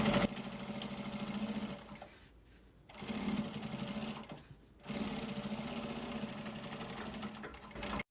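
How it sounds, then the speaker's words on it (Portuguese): A sewing machine stitches fabric and lining for a small zip pouch, running in fast steady bursts with two brief pauses between runs, loud and close. "e a gente vai passar uma costurinha aqui."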